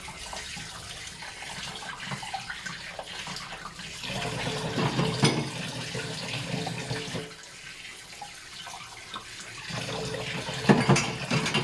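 Strong water flow from a tap or pipe, a steady rushing and splashing that swells louder partway through and stays prominent, with no talk over it.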